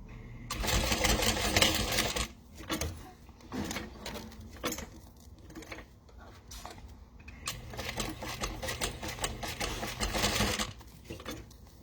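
Sewing machine stitching fabric pieces onto vinyl for a wallet, with close, rapid whirring bursts of stitching separated by short pauses and handling of the material.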